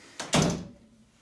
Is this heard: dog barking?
no